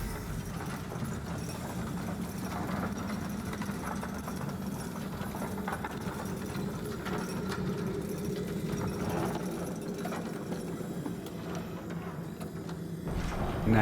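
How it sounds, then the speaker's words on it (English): A steady low mechanical rumble and grinding of a descending elevator in the video game Lords of the Fallen, continuous and fairly even throughout with no talking. "we called our elevator, and we are going to go down"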